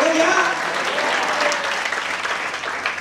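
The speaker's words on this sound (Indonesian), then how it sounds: "Berikan tepuk tangan panjang bagi Tuhan" A church congregation gives sustained applause, a dense wash of clapping that stays steady and loud throughout.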